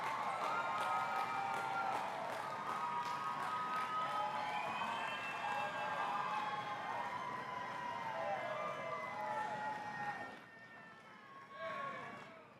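A university graduation audience applauds its supporters, a dense, steady wash of clapping mixed with whoops and cheers that carries on for about ten seconds before fading, then briefly swells again near the end.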